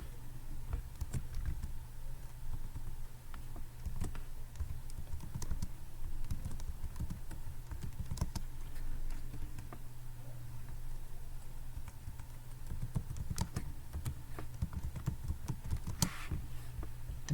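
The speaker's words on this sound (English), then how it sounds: "Then type the name of a product." Fingers type a product name on a computer keyboard, a steady run of light, close key clicks with small pauses, quiet and without voices.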